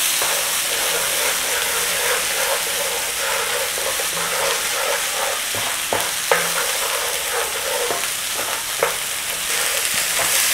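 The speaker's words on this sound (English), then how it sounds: "So all we're doing is we're actually blooming out the spices" Whole spices bloom in hot oil for a from-scratch chicken jalfrezi, giving a steady loud sizzle and hiss with occasional stirring clicks and taps of a utensil against the pan.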